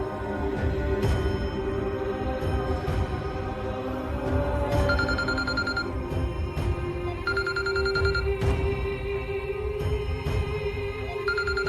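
A telephone rings repeatedly over a steady background of music, with the bursts of ringing recurring through the scene and no speech.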